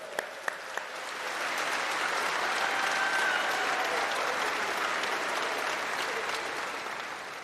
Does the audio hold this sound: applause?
yes